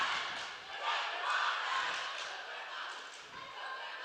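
A packed high school gym crowd at a basketball game between Valley View and Abington Heights murmurs and shouts in a busy, echoing din, with a few sharp thuds of bouncing balls and sneakers underneath.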